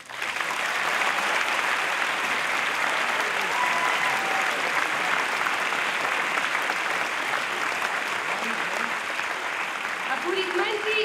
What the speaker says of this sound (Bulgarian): Дами и господа, аплодисменти и за Михо Атанасов, хореограф!